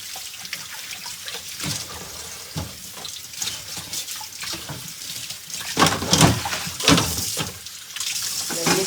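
Tap water runs steadily into a sink while vegetables such as corn and tomatoes are rinsed and rubbed under the stream, with splashes and brief clatters close by.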